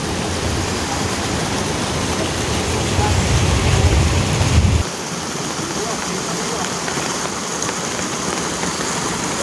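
Steady rain falling outdoors on a rural forest trail, a continuous loud hiss of drops, with a low rumbling layer during the first half that cuts off abruptly, leaving only the even downpour.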